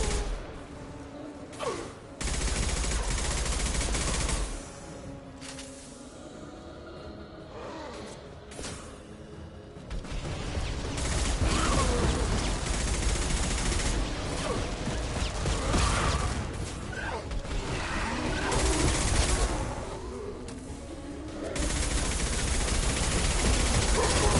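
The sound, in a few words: gunfire in Mass Effect 2 video game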